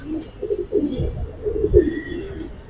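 Low, throaty cooing from Giribaz and racer pigeons rolls on in close, repeated pulses, loud and steady in a crowded loft with no talk over it.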